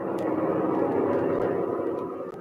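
A propeller airplane cruises at altitude in an old radio adventure drama, a steady loud engine drone with a rough, throbbing texture that continues without a break, and no voices over it.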